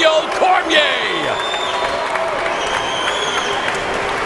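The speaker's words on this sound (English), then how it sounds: "And Cormier's family and friends on their feet, clapping for his performance here tonight." Family and friends applaud at a Strikeforce heavyweight fight, Daniel Cormier against Josh Barnett in the 2012 Grand Prix final, with sustained arena clapping and crowd noise, cheers and whistles rising over it, and an announcer talking throughout.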